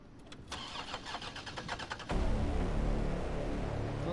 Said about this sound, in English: so the car could start